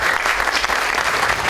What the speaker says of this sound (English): Please give a big, warm round of applause to Professor David Napier.